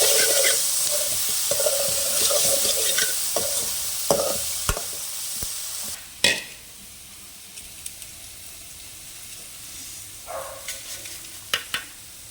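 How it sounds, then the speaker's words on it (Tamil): Brinjal being stirred in a hot pan for a tamarind gravy, with a steady sizzle and hiss under repeated scraping strokes of a spoon that fade slightly after the first few seconds, close and with no talking. "அதுக்குள்ளே மறுபடியும் கத்திரிக்காவை கிளறி விட்டுக்கலாம்"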